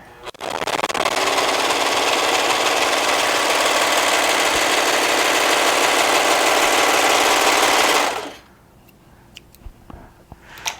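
A Brother serger runs continuously through cotton fabric for about eight seconds, a loud, dense, rapid mechanical chatter that stops abruptly, leaving faint clicks and handling noise.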